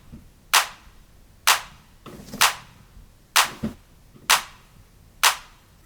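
Six sharp drum-machine clap hits in the Roland 909/808 style, for a house music track, repeating at a steady pace with crisp bright attacks and short tails, loud and dry with no voices.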